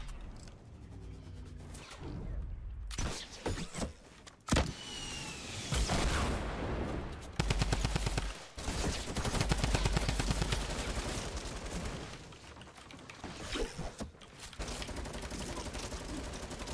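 Rapid gunfire spraying in the video game Fortnite, dense bursts of shots and booms with short pauses, loud throughout.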